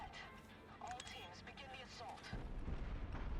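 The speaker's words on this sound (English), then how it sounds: "In the elevator, we detonate everything." Bombs detonate inside an elevator in the shooter game Trepang2, producing low, rumbling blasts and rolling booms at a modest level while a voice talks over them.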